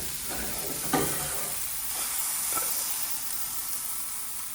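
Onion, mushroom, tomato and asparagus sautéing in a pan, a steady close hiss and sizzle with a few soft stirring knocks and scrapes, no talking.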